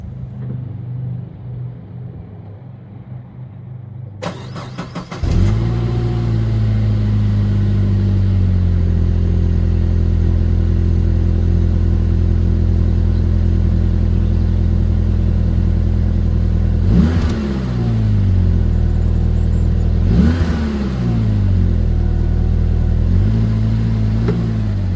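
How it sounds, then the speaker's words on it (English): A Saab 9-5 2.3T engine with its original factory exhaust idles with a deep, steady exhaust rumble, then gets revved sharply three times, each burst rising and falling back to idle. "here's a sound check of the OEM exhaust system"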